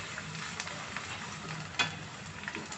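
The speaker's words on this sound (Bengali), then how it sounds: "লাল করে একটু ভেজে নেব।" Fish roe frying with onions and chopped green chillies in a pan gives a steady, soft sizzle with faint crackles, broken once by a sharper click near the middle, close by and with no voices.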